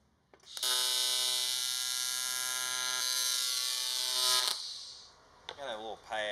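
Welding runs a short bead with silicon bronze filler, a steady close buzzing hum lasting about four seconds before it cuts off and a voice begins.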